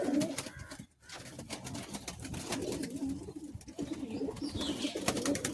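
Pigeons coo softly in a loft, a few low rolling calls over a busy, rustling background, close but quiet, with no one speaking.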